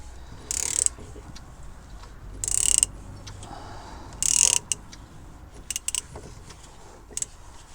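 Ratchet loosening oil filters on a Chevrolet Captiva, three short bursts of rapid clicking spaced a couple of seconds apart, followed by a few quicker clicks over a quiet workshop background.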